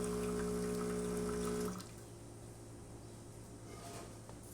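Brew water flows from the group head of an Expobar espresso machine after a solenoid valve repair. A steady hiss of running water follows a tonal pump hum that cuts out partway through.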